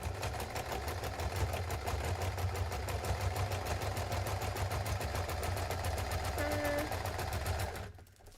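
A sewing machine runs continuously at a fast, even stitching rhythm for about eight seconds, close and steady, then stops abruptly.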